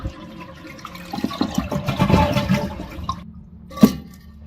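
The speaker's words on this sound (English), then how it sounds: "Then flush it and let all the water drain out." A toilet flushes with a rising rush of water that swirls and drains from the tank for a few seconds, then a short gurgle near the end.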